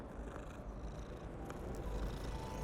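A cat in the video game Hogwarts Legacy purrs steadily as it is petted, a soft continuous low rumble that holds evenly for the whole moment with no talking over it.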